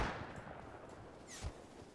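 Distant gunfire in the survival video game Rust, a few muffled shots standing out faintly over a steady noisy background.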